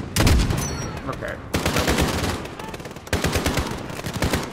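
Rapid machine-gun fire in Call of Duty Modern Warfare rattles in loud, dense bursts with brief pauses between them, dominating the mix.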